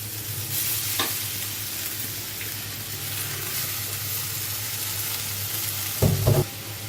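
Banana flower (mocha) sizzles steadily while being fried and stirred in a pan, with a continuous hiss and low frying rumble; a clatter of stirring sounds near the end.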